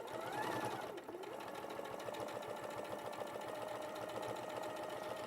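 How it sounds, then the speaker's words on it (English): Domestic sewing machine stitching steadily along a fabric edge, a fast continuous mechanical whirr and rattle at close range, with a slight dip in speed near the start and no talking. "So I'm just going to sew all the way along this edge."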